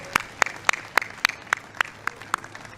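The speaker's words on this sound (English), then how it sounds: "How about a round of applause for our birthday president?" Outdoor clapping at a White House lawn event welcoming the 2016 NCAA football national champions: about ten sharp, evenly spaced claps ring out in a quick steady rhythm, close and distinct over quiet background noise.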